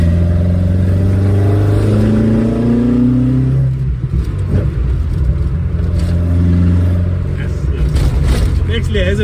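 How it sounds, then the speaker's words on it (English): A modified Datsun engine with a 4AGE-like tone and Toyota throttle bodies revving hard, rising and falling through several blips, close and loud, with people talking over it. "It actually has a mixture of a 4AGE tone mixed with a DATSUN motor."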